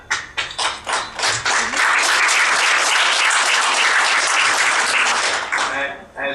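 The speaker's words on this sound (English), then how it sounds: "I'd like to applaud the faculty on that" An audience at a community college board of trustees meeting breaks into applause for the faculty, scattered claps building quickly into a sustained, dense round of clapping that fills the room before tapering off near the end.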